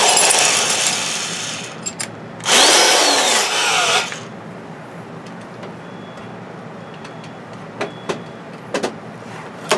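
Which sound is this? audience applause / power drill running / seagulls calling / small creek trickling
power drill running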